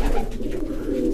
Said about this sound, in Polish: Moje gołębie, zarówno stare lotniki, jak i te mutki,